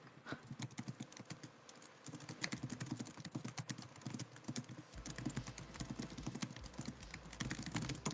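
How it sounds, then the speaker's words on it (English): Someone types fast on a computer keyboard, producing a quiet, busy run of rapid clicks and key taps with short uneven pauses, and no one speaks. "Typing away furiously."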